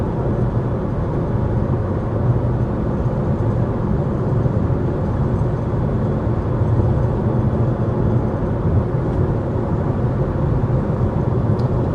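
Steady low rumble of tyre and road noise inside a 2026 Honda HR-V EX-L cruising at 55 mph in normal drive mode with the fan on its lowest setting, a constant broadband drone with no speech.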